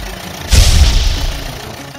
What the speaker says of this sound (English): Yellow tractor.